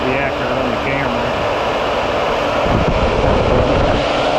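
A vacuum pump pulls vacuum on a 12-volt mini split air conditioner in a van, giving off a loud, steady mechanical roar close to the microphone throughout, with some wind-like rushing mixed in.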